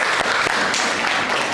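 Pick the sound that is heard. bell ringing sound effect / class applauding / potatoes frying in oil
class applauding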